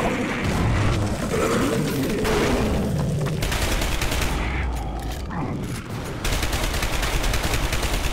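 Sustained gunfire and explosive booms in the third-person shooter Dark Sector, a dense, continuous barrage of shots with heavy low rumble filling the whole stretch, briefly dipping midway before resuming.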